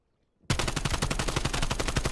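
Automatic gunfire in a competitive video game match starts suddenly after a brief silence and continues as a dense, loud, rapid stream of shots.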